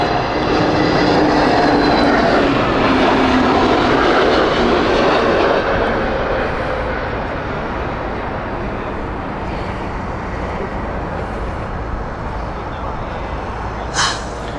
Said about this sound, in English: It's British Airways with Airbus A321neo.